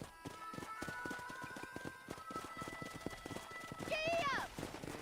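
Hooves clip-clop in a fast, even galloping rhythm from a horse in the Red Dead Redemption video game, over faint sustained background tones, ending with a loud, sharp whinny near the close.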